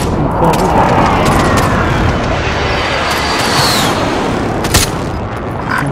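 Airstrike explosions pound a Call of Duty: Modern Warfare map, a loud sustained rumble of booms with sharp cracks near the end, layered over continuous battlefield noise and gunfire.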